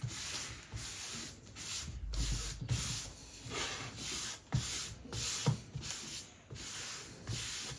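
Hand sanding of a soft, porous paulownia wood guitar body, close rhythmic scratchy strokes in a steady back-and-forth pattern, fairly quiet with no voices.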